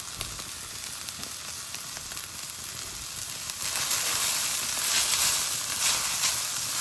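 Cabbage sautéing in a hot pan for prawn noodles, a steady close sizzle and crackle that grows louder and brighter partway through, with no voices.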